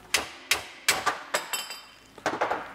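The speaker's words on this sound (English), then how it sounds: "But we need a hammer." Metal hammer blows struck repeatedly on a car's lifted strut spring assembly, about eight sharp, fairly close impacts with a ringing, clinking edge and uneven spacing, with no talk.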